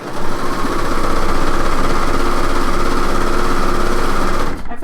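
A sewing machine stitching a blouse runs steadily and loudly in a fast continuous mechanical whir, then stops abruptly near the end.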